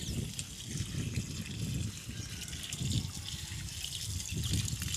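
Water pours steadily onto jasmine plants in a home garden, a continuous splashing trickle with soft gurgles, close by and moderately quiet, with no talking.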